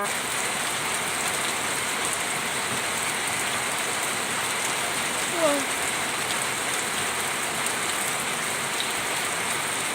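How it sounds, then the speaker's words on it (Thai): Rain falls steadily outdoors in a continuous, even hiss that holds at moderate loudness for the whole stretch, with a faint brief bird or voice chirp near the middle and no talking. "มีแต่สายฝนลงมาเนาะค่ะเนาะ"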